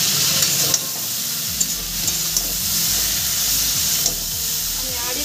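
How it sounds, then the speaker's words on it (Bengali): Vegetables frying in a pan for a fish curry, with a steady close sizzle and hiss broken by scraping stirring strokes, and no voice. "সবজি প্রায় আমার ভাজা হয়ে এসেছে"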